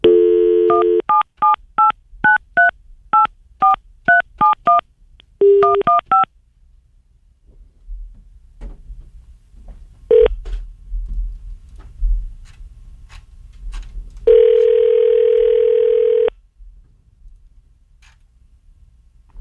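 A telephone keypad dials a rapid string of tones, a short pause, then a few more, followed by scattered clicks and handling noise, a brief tone and a steady dial tone near the end; no speech.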